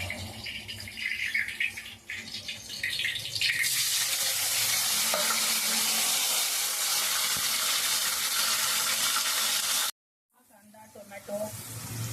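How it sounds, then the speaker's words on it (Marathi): Loud, steady sizzling of onion, tomato and garlic frying in hot oil, with a stirring sound at the start and a brief silence near the end. "लसूण हा चांगला लाल होईपर्यंत मी या तेलामध्ये परतून घेते आहे"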